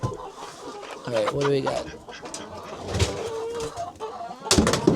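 Chickens and roosters cluck and call inside a somewhat grungy coop on a snowy farm in winter, a mix of nearby squawks and crowing. Someone talks over the birds.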